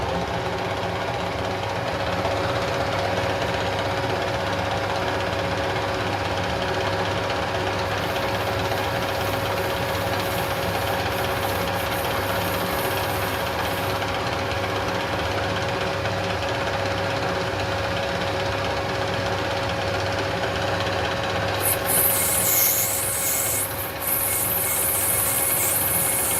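A Greenfield ride-on mower engine runs steadily at a constant idle for the whole stretch, a continuous mid-pitched drone with a faint knocking texture, loud and close, with no talk over it.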